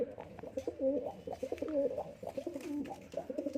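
Female pigeon cooing in its nest, a series of soft, rhythmic throaty coos repeating close by and fairly quiet, with no talk over it.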